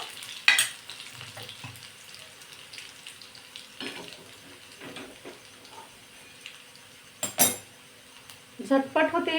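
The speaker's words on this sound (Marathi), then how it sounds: "आता हा लसूण मस्त सोनेरी रंग येईपर्यंत तेलामध्ये तळून घ्यायचा" Crushed garlic frying in oil in a kitchen pan, a low sizzle broken by sharp scraping stirs and clinks of utensil on metal, with louder bursts near the end.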